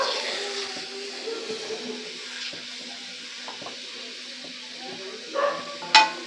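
Fish curry with water just added in a pan, stirred gently: quiet simmering bubbles and soft scraping strokes, with a louder clink of utensils near the end.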